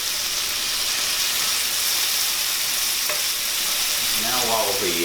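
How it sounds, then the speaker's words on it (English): Vegetables saute in a hot pan for eggs Benedict, a loud, continuous close sizzle with a stirring scrape near the end. "Now while the vegetables are sauteing"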